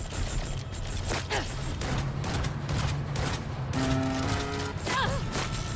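Video game gunfire crackles in dense, continuous bursts alongside explosive booms, with a tonal electronic effect partway through and a voice briefly breaking in over the shooting.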